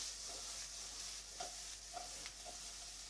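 Two crushed garlic cloves frying in a pot of beef bourguignon, giving a steady soft sizzle with faint stirring taps, close and quiet with no talking.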